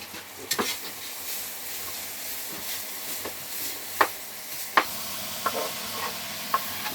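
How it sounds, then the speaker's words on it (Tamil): Chopped tomatoes fry in olive oil in a pan in a camper kitchen, a constant close sizzle broken by several crisp spatula scrapes and taps spaced through the clip. "தக்காளியை போட்டு ஃப்ரை பண்ணணும்."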